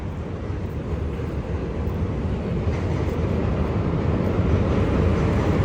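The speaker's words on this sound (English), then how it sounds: "you're gonna hear a lot of noise because of the train. That crosses the bridge." A steady, heavy rumbling roar of a train crossing a bridge in DUMBO, Brooklyn, New York City, continuous and fairly loud with no pauses.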